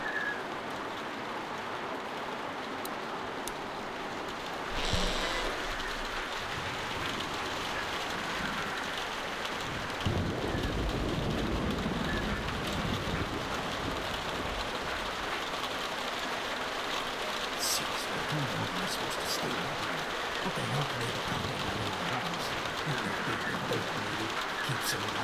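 Steady rain pours outdoors in The Walking Dead: Telltale Definitive Series, a continuous dense hiss with occasional louder drop patters and faint bird calls, lasting throughout with no talk.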